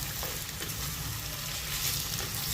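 Potatoes and capsicum sizzle steadily in a pan while being cooked into a sabji, a continuous close, even frying hiss with no voices.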